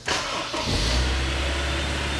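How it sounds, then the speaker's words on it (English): A 2006 Honda S2000 engine cranks and catches, then roars into a loud, deep, steady idle close by, with a strong low rumble throughout. "Fires the car right up."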